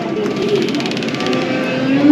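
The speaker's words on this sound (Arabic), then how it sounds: "سامعين في صوت حوت قال انه تحت المي." A whale-call sound effect plays at a submarine exhibit in a military museum in the Netherlands: a steady, moderately loud tonal moaning drone with faint hollow cooing tones, heard alone without talk.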